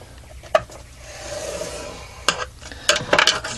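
A wooden board is scored at measured marks while a box is being made, giving close rasping, rubbing drags followed by a few sharp scraping strokes and taps, with no voices.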